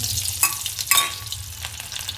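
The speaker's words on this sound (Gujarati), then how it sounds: "આપણે આમાં તેલ નાખી દીધું છે। હવે લસણ નાખીએ" Loud, close sizzling of garlic hitting hot oil, with crackling bursts and stirring scrapes throughout.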